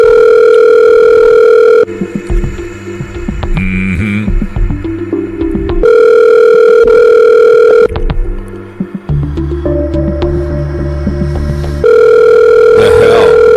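Outgoing Google Voice call ringing on a telephone line: a loud, steady ring tone repeats in long bursts with pauses, under a busy bed of music and sound effects.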